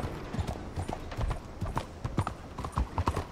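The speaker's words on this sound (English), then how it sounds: "Where's my horse? There's my horse." Horse hooves clip-clop steadily at close range in Red Dead Redemption 2, a quick irregular patter of hoof strikes, with a faint whinny at one point and no talk.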